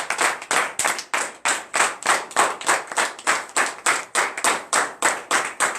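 Congregation clapping in unison during a morning prayer service, a regular rhythmic beat of about three claps per second, each clap sharp and close, repeating steadily without voices.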